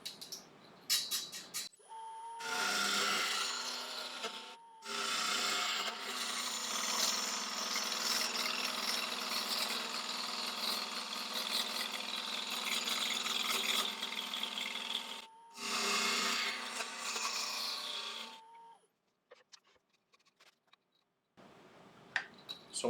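A wood lathe turning a utensil holder made from a rotten log, a tool thinning its wall in long bursts of raspy scraping, separated by brief silent pauses, over a faint motor hum.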